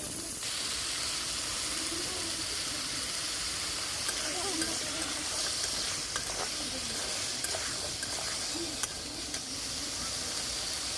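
Pumpkin fries with garlic paste in a pan, a steady close sizzle and hiss with soft stirring scrapes and occasional clicks of the utensil against the pan.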